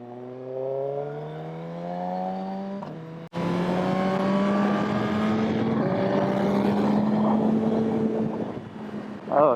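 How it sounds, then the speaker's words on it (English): A 2022 Suzuki GSX-R1000R engine drops in pitch on deceleration, then revs briefly before dropping again through a downshift into first gear, heard close with wind rush over the rider's microphone. "Downshift into first."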